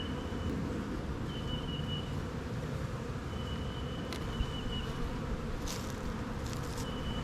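Honey bees in an open hive under inspection drone in a steady, dense hum that fills the whole stretch, with a faint higher whine drifting in and out and a few light knocks near the end.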